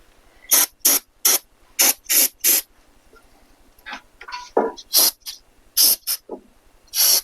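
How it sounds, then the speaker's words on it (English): Brake parts cleaner hisses from an aerosol can in a series of short, sharp bursts, several quick sprays in a row, then a pause with faint clatter, then more bursts, working on a 2008 Mercedes GL320 CDI. "Hit with a little brake parts cleaner."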